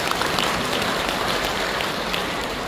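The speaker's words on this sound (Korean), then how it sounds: "이 축하의 박수 부탁드리겠습니다." Congratulatory applause from a Buddhist temple assembly at a regular Sunday dharma service, a close, loud, steady patter of many hands clapping through the whole stretch.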